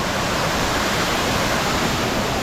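Lusno Falls rushes in a dense, constant roar of falling water, loud and steady with no other sounds.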